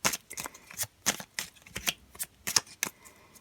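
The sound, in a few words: cutting a deck of Lenormand cards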